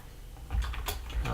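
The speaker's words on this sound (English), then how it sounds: "I'm going to type in Orange" A few quiet key taps on a computer keyboard as a search word is entered, short irregular clicks over a low room hum, with no talking.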